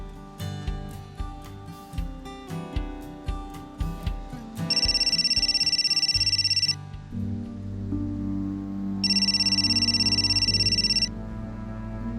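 A telephone rings with an electronic ringtone for an overseas call, two long loud bursts separated by a pause, preceded by soft rhythmic tapping, with no talking.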